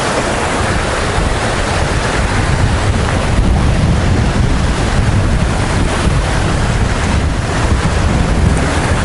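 Surf washes steadily onto the long Tsilivi Beach on Zakynthos, Greece, a loud, continuous roar heavily buffeted by wind on the microphone.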